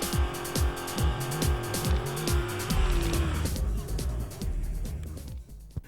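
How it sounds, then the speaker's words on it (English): Ford drag race cars roar hard through repeated rapid gear changes, the engine notes climbing and dropping in a loud rhythmic pattern before fading away, with a crowd and voices faintly behind. "Oh man, what a drag race."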